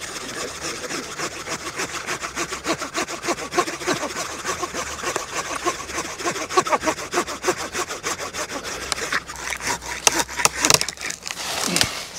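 Rapid rhythmic rasping of a handsaw cutting through a cherry tree branch, steady back-and-forth strokes, close and loud, continuing throughout.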